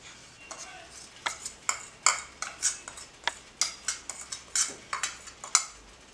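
Coffee powder for an aloe vera hair dye is scraped and tapped into a small bowl with a spoon, giving a run of quick, close metallic clinks and scrapes at an uneven rhythm.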